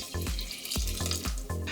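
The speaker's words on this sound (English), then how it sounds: "Once you combine these, you can pour in your water." Water gurgles and glugs as it is poured into a pot of apples and sweetener for cranberry sauce, a close, fairly loud burbling stream with rhythmic pulses.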